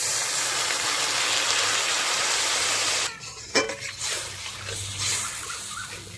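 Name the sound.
water added to the fried spice paste, sizzling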